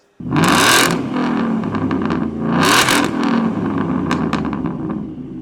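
A Ford Mustang with the Coyote V8 revs hard through its exhaust, two sharp throttle blips rising and falling over a loud, rumbling idle, close to the tailpipes with no talking.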